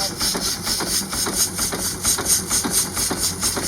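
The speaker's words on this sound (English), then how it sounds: "This is actually the engine." A vintage steam-era power machine engine runs steadily nearby, with a rhythmic chuffing and clanking pulse repeating about three times a second over a low mechanical rumble and a hissing high end.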